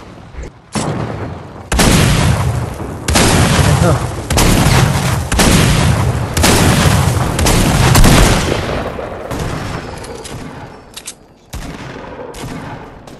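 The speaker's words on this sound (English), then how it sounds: "They're shooting at you." Heavy video game gunfire and booming blasts roll on in dense, loud bursts across most of the stretch, with brief gaps, while excited players talk over the battle.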